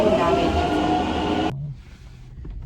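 A crowded metro train roars loudly along the platform, then cuts off abruptly into a quieter station hum where a voice speaks briefly.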